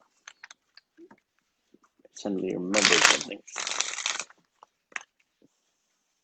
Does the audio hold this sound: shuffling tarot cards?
yes